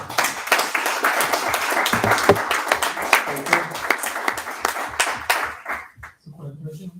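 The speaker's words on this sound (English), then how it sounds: "I would say another big applause to Michael." An audience at a tech meetup claps in a burst of applause that fades out after several seconds, with a voice speaking over and after the clapping.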